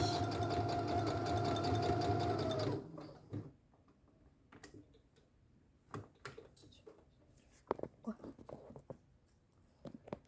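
A sewing machine runs steadily while stitching the seam of a fabric scrunchie, a loud continuous mechanical whir that stops abruptly after about three seconds, leaving quiet handling clicks and small taps.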